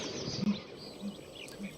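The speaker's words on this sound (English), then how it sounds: "Well, it is the bittern." A bittern, Britain's loudest bird, gives three soft, low booming notes at fairly even intervals. The calls sound faint and distant over quiet background hiss.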